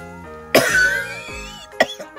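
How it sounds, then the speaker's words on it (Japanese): Two harsh coughs from a woman with a cold, close to the microphone, the first longer with a strained tail, the second short and sharp, with a background tone underneath. "ほんと咳が止まらないんです"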